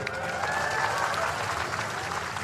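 A crowd applauds steadily and loudly at an outdoor National Awakening Day ceremony in Indonesia, the clapping sustained throughout with no pauses.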